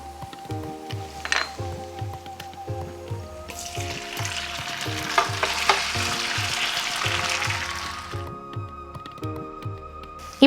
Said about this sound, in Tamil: இங்க பாருங்க, நான் குக் பண்ணி வச்ச பொங்கல் எடுத்து இதுல இப்ப ஆட் பண்ண போறேன்.